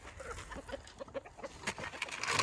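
Chickens cluck in a backyard coop, making a steady run of soft, close clucks that builds toward the end, with no voices.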